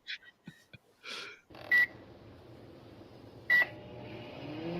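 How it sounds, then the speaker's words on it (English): A microwave oven hums steadily after a few clicks and beeps, with two sharp electronic beeps punctuating the droning run. "Why is Elaine always using this very loud microwave?"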